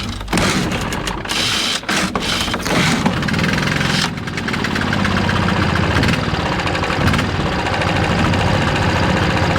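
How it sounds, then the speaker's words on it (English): A Stihl BR800 gas backpack leaf blower engine starts and then runs continuously at a loud, steady roar close by. "This is what you call the BR800 Charlie. It's a fantastic blower."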